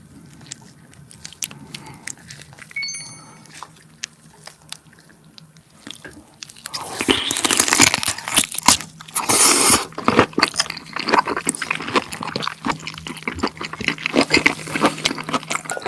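Loud, wet crunching and chewing of soy sauce marinated giant tiger shrimp dipped in egg yolk, close to the mic. It starts quietly, then bites and mastication build into a dense, continuous stretch of crunchy, squishy sounds.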